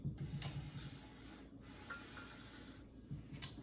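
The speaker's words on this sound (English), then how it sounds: "I'm creaming the brown sugar and the butter together" Brown sugar and room-temperature butter being creamed together in a bowl for banana bread, a steady close scraping and rubbing of spoon against bowl with brief rasping strokes, no talking.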